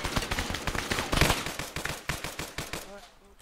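Rapid automatic gunfire from a machine gun in a Vietnam-era squad shooter video game, a dense burst of sharp cracks that peaks then thins out toward the end, with faint voices in the background.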